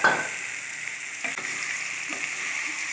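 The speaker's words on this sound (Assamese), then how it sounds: "আকৌ এয়া মাংসখিনি মই ঢালি দিছোঁ।" Chicken meat with spice paste frying in a pan for an Assamese chicken and sesame curry, a steady close sizzle with occasional stirring scrapes and no talk.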